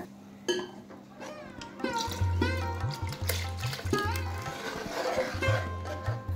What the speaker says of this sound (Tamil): இதில் வந்து 4லேருந்து ஒரு 5 டம்ளர் அளவுக்கு தண்ணி ஊற்றிக்கலாங்க.